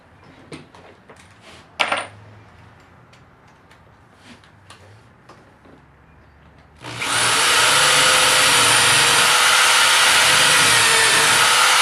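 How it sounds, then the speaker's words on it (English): A few faint clicks and handling noises, then a power drill starts up loudly and runs steadily, whirring close by for several seconds while pre-drilling wood. "I'm going to get the drill and pre-drill them"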